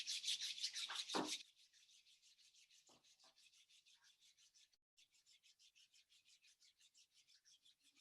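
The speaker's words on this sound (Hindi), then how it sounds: "फिर दोनों हाथ को आपस में रब कर लें।" Both hands rub briskly together, a close, loud swishing friction for about a second, followed by a faint, rapidly repeating rhythmic rasping that continues quietly in the background.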